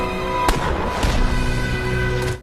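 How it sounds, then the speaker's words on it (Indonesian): A gunshot rings out sharply in a forest escape scene, one crisp report cutting through a dense, busy background of layered sound before it fades near the end. "Namun saat mereka berlari, suara tembakan terdengar, lalu Finn terjatuh"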